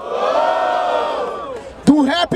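Crowd at a Brazilian freestyle rap battle roaring and cheering for MCs MT and Magneto, a loud sustained chorus of yells fading, then sharp whoops and shouts near the end.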